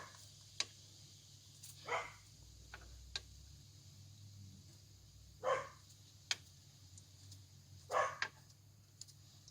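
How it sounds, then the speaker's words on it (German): A dog barks a few times at a distance in a quiet kitchen, with short separate barks spread out among faint clicks and low background hum. "Das war unser Hund."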